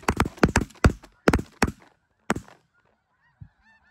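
Several snow geese honk loudly and close during a hunt, a quick run of nasal calls in the first two seconds, then a couple of isolated honks fading out.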